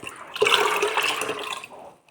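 Water is poured and swirled into a banana-peel fertilizer mix, a brief gushing, splashing rush lasting about two seconds before tapering off.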